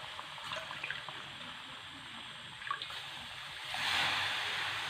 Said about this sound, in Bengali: এবার আমি ওই বাটিটি মাপ করে দু বাটি জল নিয়ে নিচ্ছি